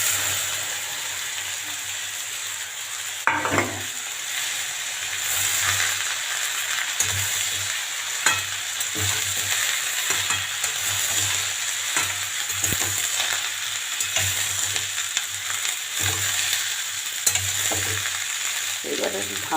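Bottle gourd pieces fry in hot oil with turmeric, a steady close sizzle broken by repeated stirring scrapes at uneven intervals, with a low hum underneath.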